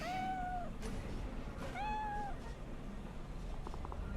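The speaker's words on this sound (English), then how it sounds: "And we pet the cat." A cat being petted in the video game Cyberpunk 2077 gives two clear, drawn-out meows about a second apart over a low background hum, followed by a few faint short clicks.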